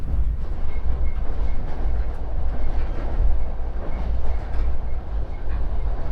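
A steady, loud rumble of a train rolling along the rails in rural Moldova, on the way to Ungheni, with a constant low roar and faint rhythmic clatter and no voices.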